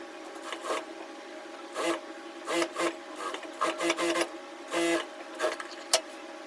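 A sewing machine stitching the sleeve of an A-line kurti, running in short bursts of rapid mechanical whirring separated by brief pauses, close and fairly loud.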